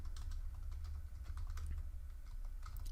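A computer keyboard clatters with rapid, close keystrokes as a locate command is typed into a terminal, steady and unaccompanied by speech.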